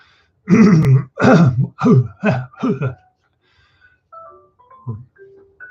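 Someone clears their throat in a handful of rough, voiced bursts up close, then a few faint, scattered sounds follow in a quiet room.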